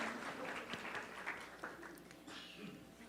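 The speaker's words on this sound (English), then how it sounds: "We would like to greet you with a warm round of applause" An audience at a youth environmental leaders' summit in Bogotá gives a faint, steady round of clapping that carries on throughout, heard from a distance.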